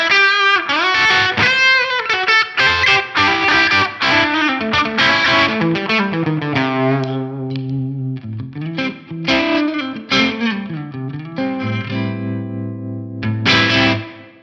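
A PRS Mirror electric guitar in humbucker mode plays a distorted rock riff with chords and single-note runs, thick and meaty with chorus-like shimmer, ending on held ringing notes.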